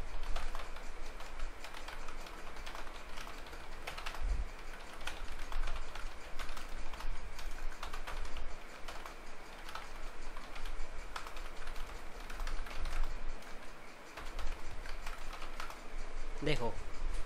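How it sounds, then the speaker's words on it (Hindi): A computer keyboard rattles with fast, steady typing, close and continuous throughout a typing speed test, its keys clicking over a faint room background. "25 कैरेक्टर्स लिखूँगा"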